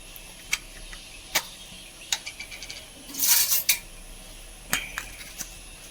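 A spoon stirs sweet jackfruit preserve in a pan, giving scattered sharp metallic taps and scrapes against the pan's side, with a brief busier stretch of clinking midway.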